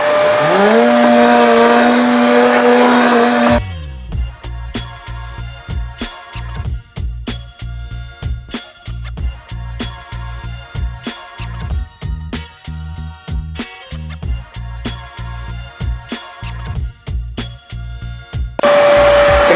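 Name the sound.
Tornador air blow gun blowing out dirt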